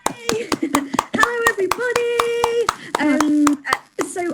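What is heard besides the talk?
audience clapping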